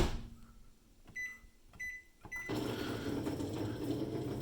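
Microwave oven heating shrimp: a few keypad beeps as it is set, then the oven starts and runs with a steady hum, with no talk.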